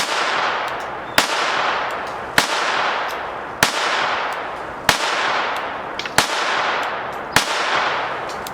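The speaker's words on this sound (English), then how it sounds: "Here at the range, it's just a lot of fun to shoot." A series of seven sharp, evenly spaced pistol shots from an all-steel FN Model 1910 handgun in .32 ACP, fired at a shooting range, each crack loud and close with a short decaying tail.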